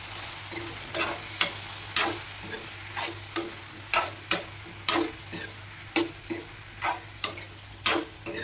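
Brinjal (eggplant) slices cut lengthwise fry in oil, with steady rhythmic ticking strokes of a stirring spoon about once a second over a low, continuous sizzle.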